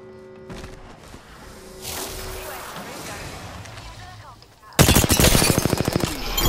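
Bursts of rapid automatic gunfire in Apex Legends, with sporadic shots and whooshes early, then a loud, dense volley of fast repeated shots toward the end, mixed with game sound effects.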